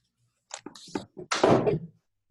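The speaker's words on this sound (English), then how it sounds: "I'm gonna shut my door real fast." A door is shut quickly indoors, giving a few short knocks and scrapes followed by a louder sliding thud, close and clear against an otherwise quiet room.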